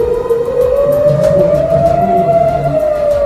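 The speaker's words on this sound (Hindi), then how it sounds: "इस दौरान पूरा रिशॉन लिजियान शहर सायरन की आवाज" An air raid siren wails loudly and steadily over the city of Rishon LeZion, Israel, its tone slowly rising, with rumbling background noise beneath.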